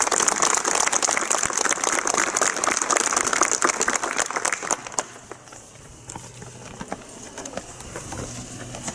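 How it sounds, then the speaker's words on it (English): Outdoor crowd applause for JROTC cadets at a Kettle Creek commemoration, dense clapping for about five seconds before thinning out and fading into quieter ambience. "Let's give a round of applause for all of them"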